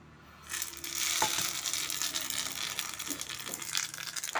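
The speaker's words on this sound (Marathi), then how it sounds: "हे तेल तापत ठेवलं आहे तर त्याच्यामध्ये मी ही हिंगा आणि मोहरी घालून घेते" Mustard seeds and asafoetida drop into hot oil for a raw mango pickle, setting off a sudden close hissing sizzle with scattered pops and crackles that continues steadily after the start.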